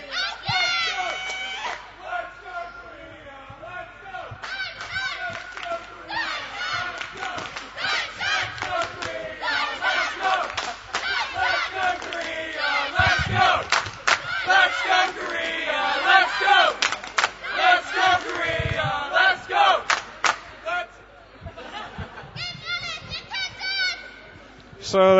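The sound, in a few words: rival teams' supporters cheering at a curling championship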